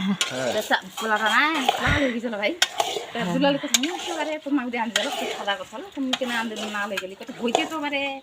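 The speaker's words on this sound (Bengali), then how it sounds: "চালগুলো ভাজতেছি, চালগুলো ভাজা হচ্ছে।" Rice being stir-fried for pulao in a hot pan, with scraping utensil strokes and a soft sizzle, while voices talk over it throughout.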